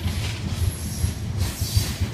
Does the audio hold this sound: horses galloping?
no